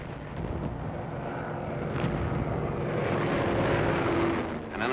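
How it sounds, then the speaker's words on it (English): A propeller aircraft flies over a tank formation in wartime combat footage, a loud, steady droning engine roar that swells slightly and lasts throughout with no voices. "A plane tries to break up the formation of tanks."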